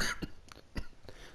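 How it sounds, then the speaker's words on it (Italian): A person coughs in a few short bursts, sharp and close, with brief pauses between them, during an Italian commentary on a UFC 3 video game fight. "Scusate la tosse"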